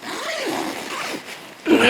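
A zipper is pulled in a continuous rasping stroke, close and fairly loud, ending with a brighter scraping burst.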